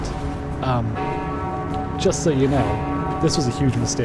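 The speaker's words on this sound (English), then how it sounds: "But you can hear that bell in the background." In a Total War Warhammer 2 battle between Skaven and Empire, a bell tolls faintly in the background while someone talks over it throughout.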